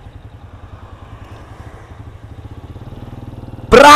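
A Honda Astrea Grand motorcycle engine putters in a steady, close, low rhythm that grows slightly louder, then ends in a sudden loud burst.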